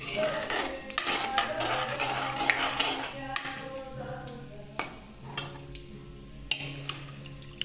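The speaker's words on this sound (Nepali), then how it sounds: "टक्क लाएर यसलाई तेलमा फालिदिने भयो यसरी पढिँदा टक्क एकछिन चलाइदिनु" Goat meat drops into lightly heated oil in a pan and gets stirred: clattering scrapes and knocks of a utensil over a soft sizzle, with some voices in the background.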